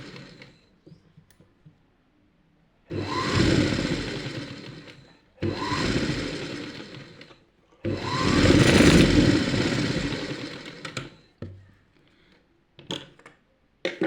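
A domestic sewing machine stitches the cross strip of a blouse in three close, loud motor bursts, each a few seconds long. Brief pauses of near silence separate the runs, and a few light clicks follow.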